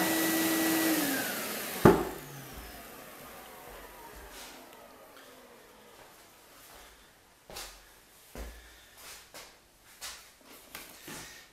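A vacuum cleaner fitted with a homemade cyclone separator runs with a steady whine throughout, with a sharp knock early on and a series of scrapes and bumps toward the end.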